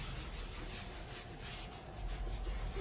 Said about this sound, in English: I'm just rubbing a little bit in